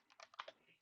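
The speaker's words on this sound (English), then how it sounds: "and then now we're going to type" Quiet keystrokes on a computer keyboard while typing a command on a home lab network switch, about six quick soft clicks in an uneven burst, close and faint.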